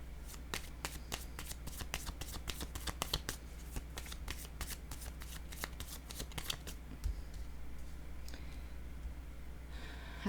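Tarot cards handled close by, with a rapid run of crisp shuffling flicks and snaps for several seconds that then thin out to softer rustles as a card is laid down, with faint murmuring.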